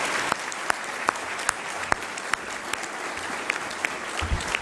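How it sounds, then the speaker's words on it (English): A National Press Club audience in Washington, DC applauds the speaker and Ivanka, steady clapping at a modest distance with a few sharp, close individual claps standing out above the crowd. "how about a round of applause for our speaker and Ivanka"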